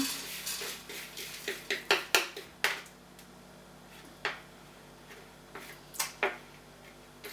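Oats being stirred in a hot frying pan greased with coconut oil for homemade granola, giving scattered sharp clicks and scrapes at an irregular pace, close by, over a low steady hum.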